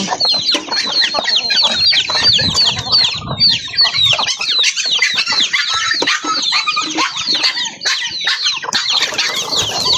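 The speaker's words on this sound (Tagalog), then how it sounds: "mga manok diri guys oh" Many chickens cluck and squawk continuously close by, a busy overlapping chorus of farmyard fowl with occasional wing flaps.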